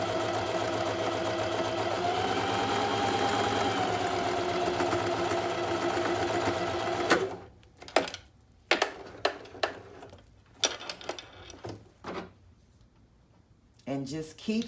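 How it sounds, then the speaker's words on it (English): A sewing machine stitching lines of fabric: a steady, fast whirring motor hum that runs for several seconds and then stops, followed by scattered clicks and handling noises, with a voice speaking over parts of it. "And just keep sewing all of your lines."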